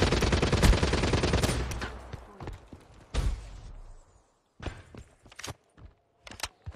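Man-O-War rifle fire in Black Ops 3 rattles off in a rapid, loud burst and then settles into scattered single shots and lighter clatter.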